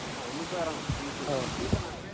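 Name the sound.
sea waves at Varkala beach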